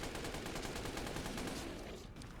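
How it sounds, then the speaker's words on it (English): Rapid bursts of gunfire aimed at a large boss in Resident Evil Village, a dense sustained rattle of shots that fills the whole moment, fairly quiet overall with no talk over it. "I'm going to start firing at him."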